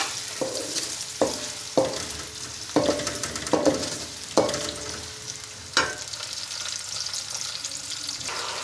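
Onions frying in a pan with garlic while being browned for dhaba-style chana dal, a continuous sizzle broken by about eight regular spatula scrapes and knocks against the pan, close and without talk.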